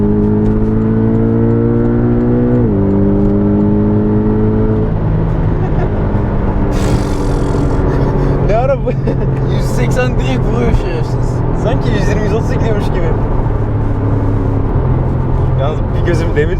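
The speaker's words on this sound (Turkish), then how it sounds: "Ama ilk böyle bir hafif bastı sonra bir bastı hemen alıyor hemen alıyor" A Porsche 718 Boxster GTS engine revs and pulls hard through rising gear sweeps, loud and close from inside the car, with people talking over it throughout.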